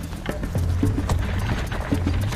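Two horses gallop while pulling a chariot carrying a driver and a warrior, their hooves drumming in a steady rapid clatter close by, with continuous rumbling movement and no talking.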